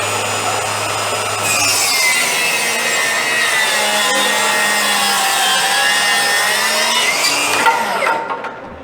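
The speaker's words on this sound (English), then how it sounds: "you can see no problem making that cut through a big piece of 2x" Milwaukee M18 cordless table saw rips through a thick piece of 2x lumber, a loud sustained whining cut of several seconds that ends as the blade winds down.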